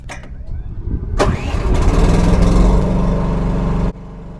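The Briggs gasoline engine on a Huayee HY14C mini excavator cranks briefly, catches with a sharp burst, then roars into a loud, steady run close by before dropping abruptly to a lower, quieter idle.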